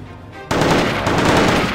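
Automatic gunfire in Company of Heroes, a modern combat battle: after a brief quiet lead-in, a loud, sustained burst of rapid machine-gun fire erupts and continues without a break.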